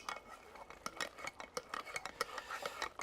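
A spoon clinks and scrapes against a bowl in quick, irregular strokes as milk is stirred into a dish, fairly quiet and close.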